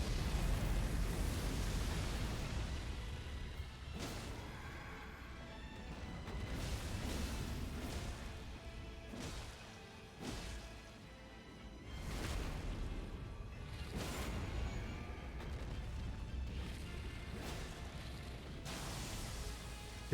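Repeated explosions burst during the Bayle boss fight in a video game, loud booming blasts with whooshing tails arriving in an uneven rhythm of about half a dozen hits, with no talk.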